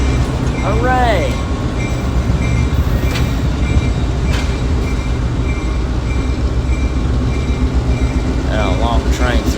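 A long historic sugar train rolls steadily along the rails, a loud continuous rumble with wheel squeals at the start and end, heard from the rear of the train.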